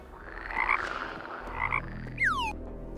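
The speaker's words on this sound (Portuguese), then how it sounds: "Transforme-se agora em um belo sapo." A cartoon frog croaking: a few loud, nearby, rasping croaks in short bursts, followed by a quick descending whistle-like effect near the end, with no talking.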